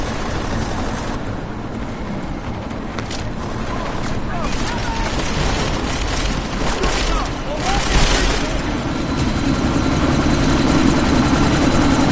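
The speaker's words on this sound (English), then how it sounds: "That chopper's about to take off!" A helicopter in the video game Deus Ex: Mankind Divided spins up for takeoff, its rotor roar loud and steady and building toward the end, with bursts of other game noise over it.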